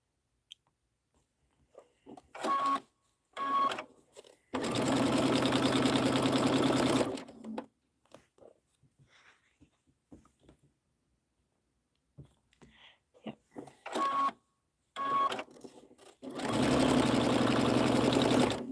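A sewing machine stitches stars in bursts: a few short runs, then longer steady whirring stretches of a few seconds each, separated by silences and light clicks, close and loud.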